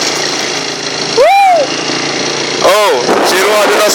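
A motorcycle engine rumbles steadily while riding to a delivery, with two sharp rising-and-falling whines from passing vehicles, near and fairly loud.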